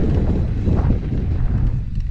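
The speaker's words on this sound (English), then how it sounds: "it's a bit windy, but we made it" Steady, loud wind buffeting the microphone while riding an electric mountain bike, a continuous low rumbling roar that persists throughout with no voices.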